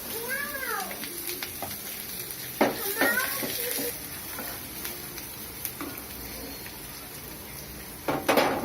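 Chopped onions sizzle and crackle in a hot pan while a voice talks nearby in Tamil, with occasional clatters of stirring.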